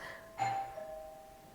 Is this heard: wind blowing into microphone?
no